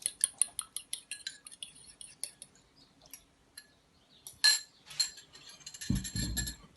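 Metal cutlery clinks and taps against a bowl as an egg is added and mixed for a spinach roll dough, a quick series of light, bright ticks followed by a softer scraping stir.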